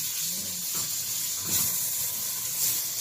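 Garlic, onion and tomato sauté in a pan, giving a steady close sizzle and hiss with faint stirring clinks throughout, no talk.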